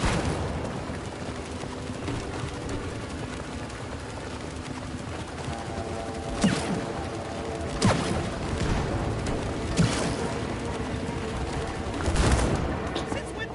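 Gunfire shooting exploding larvae in It Takes Two, several sharp distinct shots popping at intervals over a steady background of game music and ambience.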